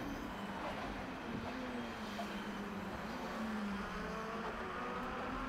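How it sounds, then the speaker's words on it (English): Race cars at Oulton Park thread through a chicane, a steady distant engine drone that rises and falls under a constant wash of background noise. "The cars filter the way through, then James Little still at the front of the"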